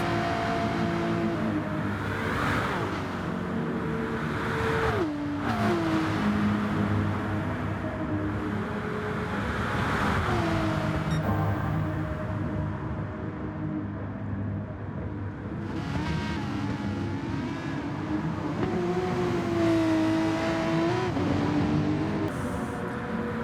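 Race cars in Gran Turismo Sport, including a fast Peugeot, roaring continuously with engines revving up and down through gear changes and cars passing close by, loud and sustained with no talking.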